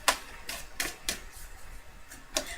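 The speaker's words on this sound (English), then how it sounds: "I just want to shuffle a little bit." Tarot cards being shuffled by hand, a few crisp riffling snaps and slaps spaced unevenly over a quiet background, close and soft.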